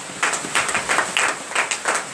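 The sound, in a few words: congregation applauding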